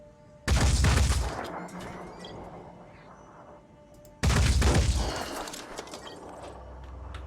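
Two heavy bursts of gunfire from the Phoenix Point video game, each a loud sudden blast that rolls into a long echoing, crackling tail of scattered shots and debris, separated by a quieter gap.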